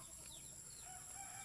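Chickens on a provincial farm cluck faintly in the distance over steady outdoor background hiss, in a short burst with a few soft calls.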